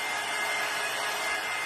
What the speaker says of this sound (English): I am just hitting this with the dryer